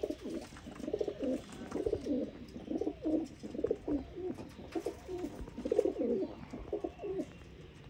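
Desi pigeons coo in a steady series of repeated throaty phrases, fairly close, over a faint background hum.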